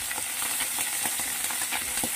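Small mourala fish frying in a hot pan with oil, a steady close sizzle broken by soft bubbling pops and faint stirring clicks, no voices.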